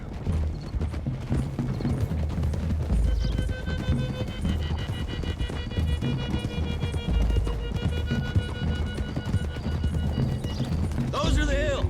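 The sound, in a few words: horses galloping in Red Dead Redemption 2 video game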